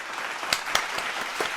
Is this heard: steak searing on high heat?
no